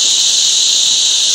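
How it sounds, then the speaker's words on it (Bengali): Crickets chirping in a forest on the mountain route between Ukhimath, Chopta and Pipalkoti, a loud, dense, continuous high shrill trill with no break or talk. "ঝিঁঝি পোকার ডাকটা খুবই সুন্দর লাগছিল জঙ্গলের মধ্যে"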